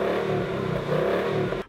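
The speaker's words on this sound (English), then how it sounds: "this Mustang that I just tested out, it's got a great sound." A Ford Mustang engine revving through its original muffler, a loud, close, throaty roar that stays steady for under two seconds before cutting off abruptly.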